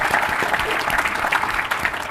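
An audience applauds at a conference plenary panel, a brief burst of close, dense clapping from many hands.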